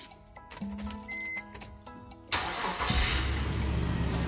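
Inside a Nissan Elgrand camper van with a caravan package, a few clicks and ticks lead into the engine cranking and catching at once, then settling into a steady, close idle.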